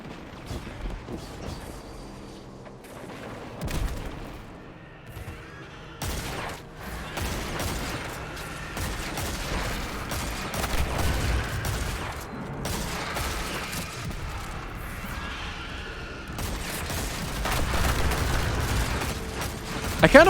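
Shotgun blasts in a first-person shooter game crack out in scattered bursts amid other gunfire and mechanical clatter, with a voice talking over the action at moderate level.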